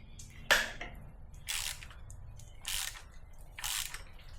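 Ratcheting clicks as a T40 Torx tool undoes the timing chain pins on a BMW M57 diesel engine, four short bursts of clicking spaced about a second apart, close and moderately loud.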